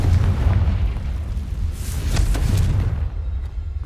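A Confringo fire spell from Hogwarts Legacy bursts in a series of loud, rumbling booms with crackling blasts, one after another with no pause, and no voices.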